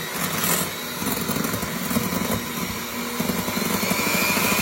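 A steady, whirring motor hum runs throughout at moderate volume, an electric mixer on a low setting mixing egg custard pie filling, with slight fluctuations.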